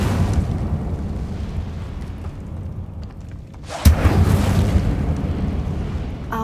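Incendio fire spell cast in the game Hogwarts Legacy: a sudden loud whooshing burst of flame erupts partway through over a low rumbling ambient bed, then sustains as a crackling roar to the end.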